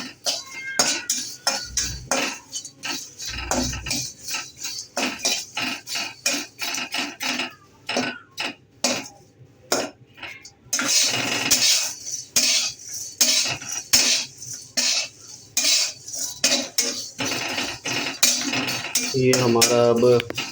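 Masala sooji being fried and stirred in a pan for carp fishing bait, a spoon scraping and clinking against the metal in a loud, steady rhythm that runs almost without a break, with no talk.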